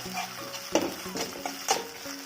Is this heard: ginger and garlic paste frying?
yes